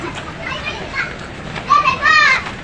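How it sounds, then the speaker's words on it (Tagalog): Children at play in the Tandang Sora area of Quezon City, with high excited voices and shouts rising and overlapping nearby, growing louder and more animated toward the end. "may laro pa ng mga bata"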